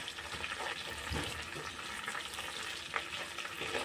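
Cloves and green cardamom frying in butter and oil over a low flame, a soft, even sizzle with faint stirring scrapes and an occasional small pop, heard fairly quietly without talk.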